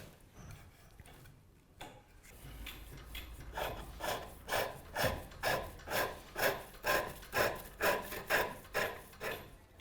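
A hand-turned tenon cutter shaves a tapered wooden tenon for a captain's chair, making a rhythmic series of close, rasping scrapes that grow steadier and louder, with no talking.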